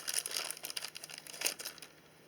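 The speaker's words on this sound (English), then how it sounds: "Cut this bag too." A plastic package bag holding RC car hubs and knuckles is cut open and handled, making close, quiet crinkling and rustling bursts that fade out near the end.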